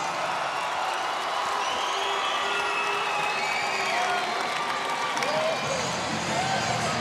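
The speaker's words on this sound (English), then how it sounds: "listen to this crowd loving the Hillgrove Hawks" A basketball crowd cheers for the Hillgrove Hawks during a high school game in Macon, a sustained wash of cheering, whoops and applause with scattered shouts and talk over it.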